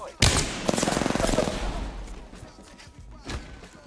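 A burst of rapid automatic gunfire in the battle-royale shooter Apex Legends opens sharply, then trails off into scattered shots and echoing impacts during a close firefight.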